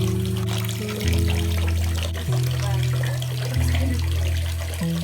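Water runs steadily into a soaking bathtub from the tap, a close, constant rushing pour with low tonal hum layered underneath and no talking.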